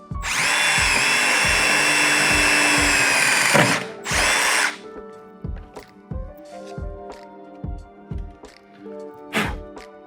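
A power drill bores holes into a Milwaukee Packout plastic tool box: a loud, steady whine for several seconds, a short second burst, then a run of thuds and knocks as the work is handled.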